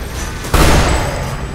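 Video game gunfire during a co-op shooter match, a sudden loud burst of blasts that continues as a dense rattling roar for about a second, close and dominating the mix.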